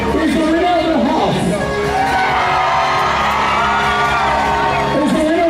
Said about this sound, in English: I need everyone to scream and shout.